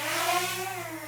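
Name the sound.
DJI Mini 4K drone motors starting up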